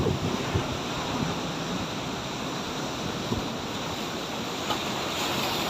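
Sea waves surge and wash over the rocks at Imaga Rock Formation in Allen, Northern Samar, a loud, steady roar of surf with wind buffeting the microphone.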